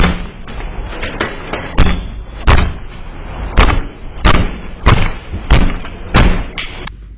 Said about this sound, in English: Where's the gunshots coming from? I think those are gunshots.